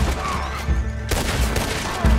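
Gunfire in Red Dead Redemption 2, loud close shots with booming reports and a ringing tail, a burst at the start and another partway through, with no talk over it.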